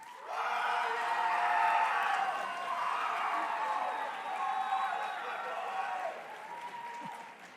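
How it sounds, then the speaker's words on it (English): A crowd at the 69th Caltech Service Impact Awards applauds and cheers steadily for several seconds as ten-year employees are called up, with a few whoops and voices in the mix. "We love cheering squads."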